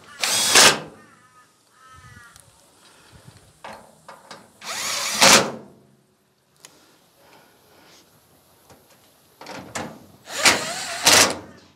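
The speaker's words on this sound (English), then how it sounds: "What I might do just quickly is sink a few screws into this side that you're looking at" Power drill driving screws into the side panel of a Simpson, Electrolux or Westinghouse clothes dryer, three loud whirring bursts separated by quieter handling clatter, nearby and mostly alone.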